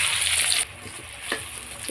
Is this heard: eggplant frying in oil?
yes